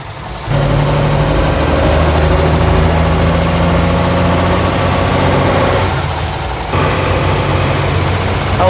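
A Mercedes Unimog engine drives forward in road gears, a loud, close, steady diesel drone with a dip and brief break before resuming, no talking.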